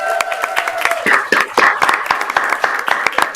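A school board meeting audience claps and cheers for a retiring staff member of 22 years, a burst of dense, sharp applause, loud and close, with scattered whoops breaking through the clapping.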